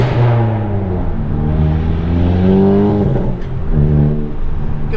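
A straight-piped Stage 2 MK7 Golf GTI engine droning loud and close from inside the car, revs rising and falling in steady sweeps, without distinct exhaust pops.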